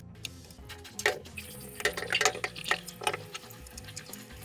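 Water sloshes and splashes inside a Wagner paint sprayer container as it is shaken during rinsing, in irregular close bursts with small drips and clicks and no talking.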